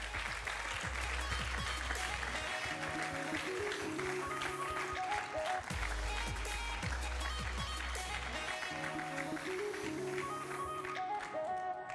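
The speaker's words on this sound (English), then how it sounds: "Give them a round of applause as they come onto stage." An audience applauds steadily as racers walk onto the stage at a semi-final race event, a dense, continuous clapping that runs under loud stage music throughout.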